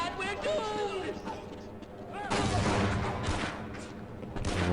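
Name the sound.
gunfire in video game Half-Life MMOD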